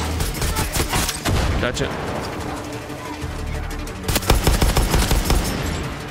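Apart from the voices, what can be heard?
gunfire in the video game Far Cry 6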